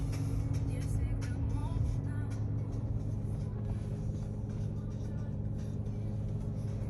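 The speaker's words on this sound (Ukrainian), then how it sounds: "Мотор працює дуже рівно, збалансовано." A 2016 Honda Accord Touring engine idles with a low, steady rumble that hums evenly throughout, with faint background noise and no revving.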